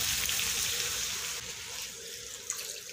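Water poured into a pan of cooking chicken curry masala with chopped onion, ginger and garlic, a steady close hissing sizzle and bubbling that softens slightly partway through.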